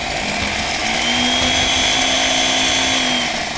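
A kitchen blender whirs steadily, blending a salt-free juice prepared for blood pressure patients, a loud, continuous motor whine with a constant pitch throughout, near and without talk.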